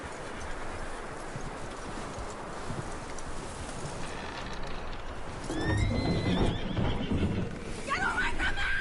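Horse in a Western open-world video game (Red Dead Redemption 2), with hooves clip-clopping over outdoor ambience, then a whinnying neigh rising near the end, with some game speech mixed in.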